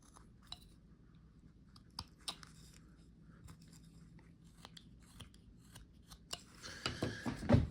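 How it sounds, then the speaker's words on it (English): A knife carving wood away on a laughing-face carving makes quiet, close, scattered crisp snips and cuts, then a denser run of rough scraping and shaving near the end. "I'm gonna go back and just carefully cut away that wood"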